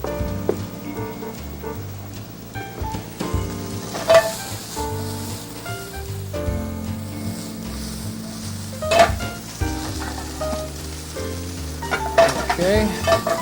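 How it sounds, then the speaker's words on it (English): Shiitake mushrooms and onions sauté in a pan with a steady sizzle, punctuated by occasional stirring scrapes and clinks, close and moderately loud with no talking. "We're going to throw that right in there with our shiitake mushrooms and onions."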